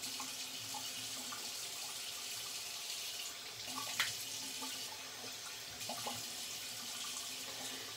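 A tap runs steadily into a sink as shaving lather is rinsed away, a faint continuous water rush with a few soft splashes and clinks.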